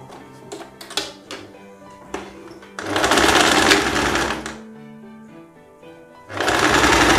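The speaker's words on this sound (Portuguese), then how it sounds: "você vem agora, junta as laterais da sua blusa para você costurar também." A sewing machine runs in loud, steady bursts as it stitches the side seams of a blouse, with short start-stop runs followed by two longer sustained passes.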